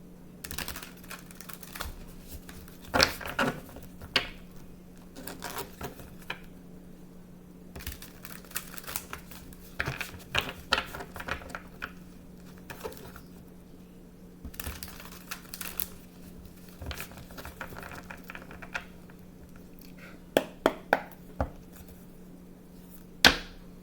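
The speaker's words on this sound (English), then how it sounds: "I'm going to shuffle the cards." Tarot cards get shuffled by hand in a quiet room, making scattered soft riffling and tapping bursts with brief pauses, over a low steady hum.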